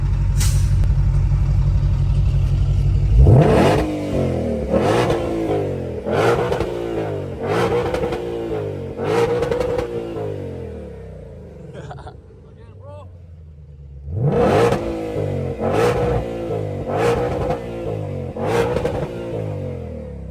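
A Shelby GT500 revs hard again and again on a Chicago street, its engine rising and falling in loud repeated bursts, a pause in the middle, then more aggressive revving up close.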